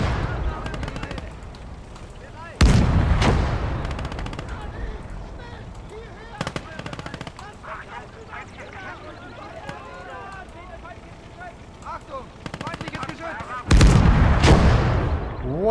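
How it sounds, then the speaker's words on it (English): Heavy gunfire booms out in the Kampfgruppe war video game, with big cannon blasts at intervals and rapid crackling fire between them, while players talk over the action. "That's a big gun."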